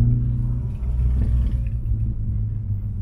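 A Honda car engine rumbles low and steady at close range, a deep continuous drone with slight swells, no voices present.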